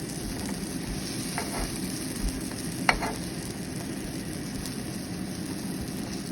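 Small round dosas frying on a hot pan give a steady, even sizzle throughout, with a couple of faint clicks and one sharp tap near the middle; no one speaks.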